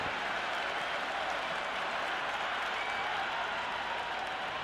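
A large cricket crowd at the India versus New Zealand T20 World Cup final roars and applauds in a dense, steady wall of cheering and clapping that holds at full level throughout.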